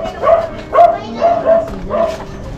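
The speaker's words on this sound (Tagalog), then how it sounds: "Maingay ang aso." A dog barks five times in a steady rhythm, close and fairly loud, with short yelping, whiny barks.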